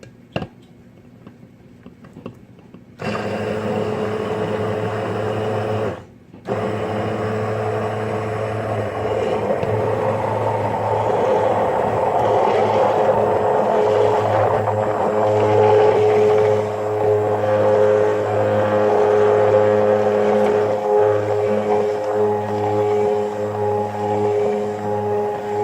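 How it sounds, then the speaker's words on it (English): An immersion blender whirs through a thick deviled egg yolk mixture, a steady close motor hum that starts abruptly, cuts out briefly, then runs on continuously and grows slightly fuller as the mixture thickens. "And then your immersion blender."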